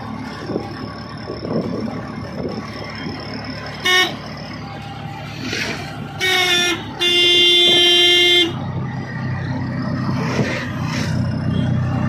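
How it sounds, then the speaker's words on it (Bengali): Short toots of an e-rickshaw (toto) horn sound over steady road noise on a ride from Baruipara station, three honks in all, the last a longer held blast. "এই রাস্তা দিয়ে টোটো করে আমরা যাচ্ছি বারুইপাড়া স্টেশন থেকে"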